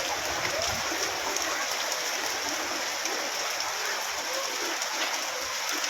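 Torrential rain with hail pours down in Saha, a loud, continuous broadband hiss and patter with scattered sharper ticks, steady throughout with no pauses.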